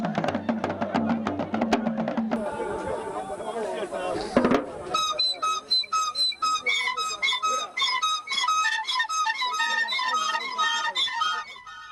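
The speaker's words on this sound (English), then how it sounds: "The male initiates blow strident notes with shrill whistles, in unison as they have learned in the camp." Male initiates at a West African coming-of-age ceremony blow shrill whistles in unison, a dense run of piercing repeated notes that follows an earlier stretch of rhythmic percussion and horn-like tones.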